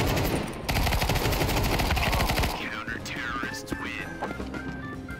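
Rapid automatic gunfire from Counter-Strike 2 gameplay, loud dense bursts for a couple of seconds, then sparser shots and game effects, with voices talking over it.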